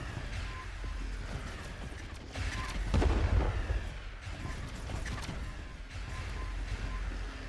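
Distant explosions and gunfire rumble through a space battle in the strategy game Distant Worlds 2, a steady low roar that swells into a heavier burst of booms midway before settling back to a continuous din.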